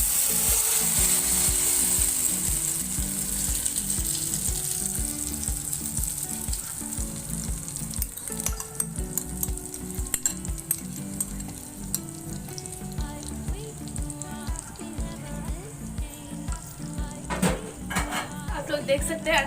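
Ground egg frying in hot oil in a pan on low heat, a steady sizzle and crackle running throughout with occasional clinks of a utensil against the pan, close and fairly loud.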